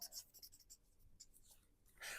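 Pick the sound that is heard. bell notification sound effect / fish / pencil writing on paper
pencil writing on paper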